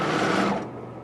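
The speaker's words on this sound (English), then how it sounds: "Now I'm going to go ahead and stitch" A serger sewing machine runs in a fast, close whirring burst for about half a second, then cuts off abruptly into quiet.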